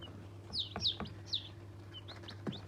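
Newly hatched Australorp chicks, just taken from the incubator, give thin, high chirps in scattered bursts. The peeps are faint and close, over a low steady hum.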